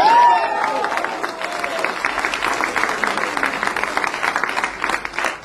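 Audience applause fills a hall at the Academy of Fine Arts: dense, sustained clapping from a crowd, steady and fairly loud across the whole stretch, with no clear talk over it.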